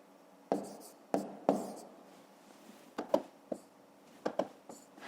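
Pen strokes writing out a long division by hand for a fifth-grade maths exercise, close and fairly quiet, in irregular bursts of scratchy strokes with short pauses between them and no voice.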